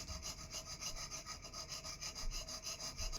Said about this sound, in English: I'm just going to file the nut slots up here.